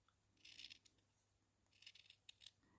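Small embroidery scissors snip through thick fabric seam allowance, two quick clusters of crisp, close metallic cuts separated by a short pause, fairly quiet with no talking.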